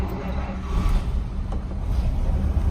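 A 1948 Cadillac Series 62 Club fastback coupe's original engine starts and idles quietly, a soft low rumble under a faint breathy hiss, fairly steady throughout with no voices.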